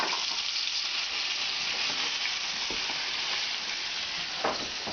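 Ground onions and garlic fry in a pan with a continuous bright sizzle and crackle, steady and close, with a couple of faint stirring knocks and no talking.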